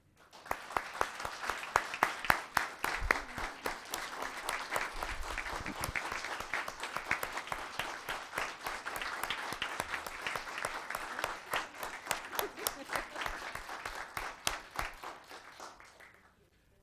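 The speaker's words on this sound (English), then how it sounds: "Please join me in applauding Sandy for a fine and distinguished career." Applause from the audience at a Los Gatos town council meeting, a steady patter of clapping hands that builds, holds for about fifteen seconds and then thins out, with no talk over it.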